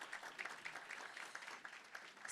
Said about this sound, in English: So I wanted you to get that applause in